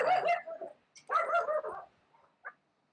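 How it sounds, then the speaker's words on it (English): A dog gives several short barks and yips in quick bursts, fairly close and moderately loud, then a final lone yip, with no one talking. "I guess your dog doesn't agree with me."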